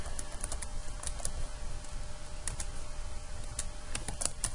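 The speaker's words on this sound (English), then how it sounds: "I'm really bad at typing this here on the computer" Keys clatter on a computer keyboard in short uneven bursts of close clicks with pauses between, over a low steady room hum.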